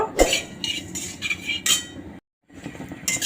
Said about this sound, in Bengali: এবার ওটসটা ভেজে নেব।